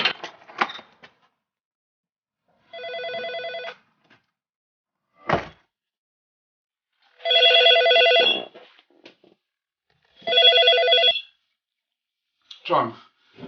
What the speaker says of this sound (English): gets a phone call from a colleague